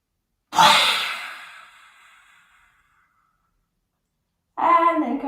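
A deep, forceful exhale fades into silence during a morning wake-up exercise, followed by a new breath drawn in near the microphone.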